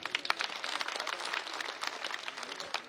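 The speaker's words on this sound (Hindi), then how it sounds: "ताली बजाओ, बहुत लोग आए थे।" An audience at a Nishad Party workers' conference claps in a brief, faint burst of scattered applause, many hands patting unevenly at a distance with no one talking.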